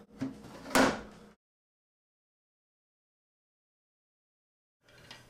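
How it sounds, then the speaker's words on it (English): A dehydrator or oven door holding flax crackers on the top shelf swings shut with a short rattle and a soft thump up close, then silence, followed by a faint later shuffle. "We'll close the door."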